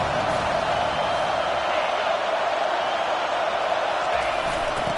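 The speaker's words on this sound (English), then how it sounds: "this crowd trying to help keep them there" Stadium crowd at a football game roaring steadily as the home defense pins the opposing offense deep in its own end, a dense continuous wall of cheering noise with no pauses.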